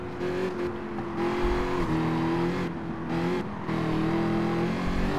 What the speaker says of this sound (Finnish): Täällä taas on kunnon kasa autoja.